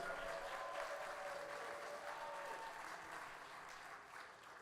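A wedding crowd claps and cheers steadily for newlyweds for several seconds, a dense wash of applause slowly fading, heard from a distance.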